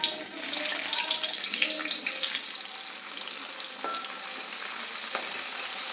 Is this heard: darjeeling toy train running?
no